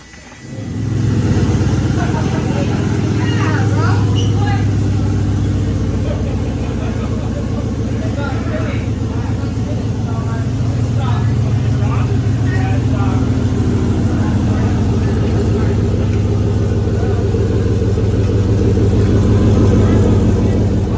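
A 2JZ-swapped Toyota GX100 Chaser engine runs loud and close for about twenty seconds, holding a steady growl with mild rises in revs. Voices are faintly audible beneath it.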